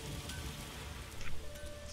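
Rain falls in the video game The Witcher 3: Wild Hunt, a steady, moderately quiet hiss of drops with slight swells, with no speech.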